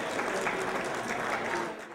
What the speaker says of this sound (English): As the sheriff entered, though, he received mild applause.